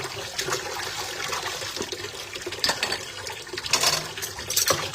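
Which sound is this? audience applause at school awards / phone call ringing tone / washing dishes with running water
washing dishes with running water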